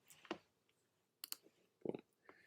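A few quiet, separate key clicks on a computer keyboard as a shortcut combination is pressed, faint and close with short pauses between.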